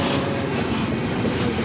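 A freight train rumbles past close by, with a continuous heavy roar, rhythmic wheel clatter and a faint high squeal, steady throughout the short stretch.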